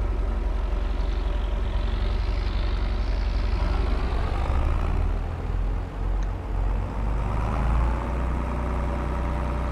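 A tractor engine in Farming Simulator 22 rumbles in a steady, low, fairly loud drone that dips slightly partway through, with no talking.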